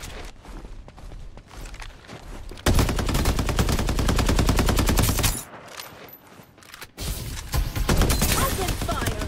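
Rapid automatic gunfire from the shooter game Farlight 84 rattles loudly in long bursts, with a short pause midway before the firing resumes, mixed with game sounds and a voice in the background.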